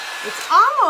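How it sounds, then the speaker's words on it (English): A hair dryer blows wet watercolor paint across paper in a pencil stencil art session, a short steady airflow whoosh with a voice talking over it. "when you hit the color and you hit the water with your hair dryer"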